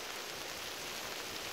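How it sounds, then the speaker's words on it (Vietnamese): Steady rain falling outdoors over a plant nursery, a faint, even hiss with no breaks and no voices. "sáng giờ nắng mà giờ trời mưa ha, mưa thì mát cây"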